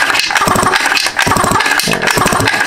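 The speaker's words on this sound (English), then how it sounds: "Crank the motor." A 49cc two-stroke pocket bike motor is cranked over close by, a loud, rapid chugging rhythm in bursts with brief pauses between pulls.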